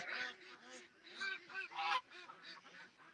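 A group of ducks quacks nearby, a run of loud nasal honking calls in quick bursts with no pause between them.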